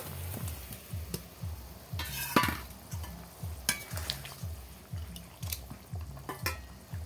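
Fish and potato pieces cook in a hot pan with a steady sizzle, while a utensil knocks and scrapes the pan in a regular rhythm. A sharper clatter comes partway through. Close and moderately loud, with no talk.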